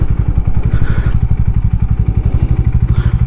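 Hero Mavrick 440 motorcycle, a 440cc bike, idling in first gear after starting: a loud, close, steady pulsing single-cylinder thump at an even rhythm, with light mechanical clatter and no talk.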